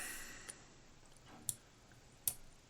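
A computer mouse gives a few faint, sharp clicks, spaced irregularly in a quiet room, with no speech over them.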